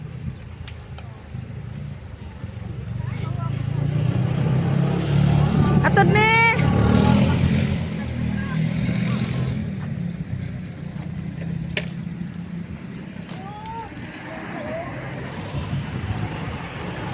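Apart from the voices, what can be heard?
passing vehicles, tricycle and motorcycle taxi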